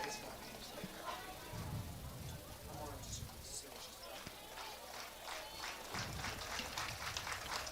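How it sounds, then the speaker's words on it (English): Polar Bear fans at a high school baseball game between Hortonville and Kimberly clap for their left fielder, a steady patter of crowd applause heard at a distance, running continuously under a play-by-play announcer's voice. "The Polar Bear fans clapping for their left fielder."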